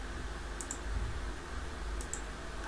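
Two quick pairs of sharp computer mouse clicks, each a crisp double tick, spaced over a second apart against a steady low room hum while clicking Insert Table in Microsoft Word 2010.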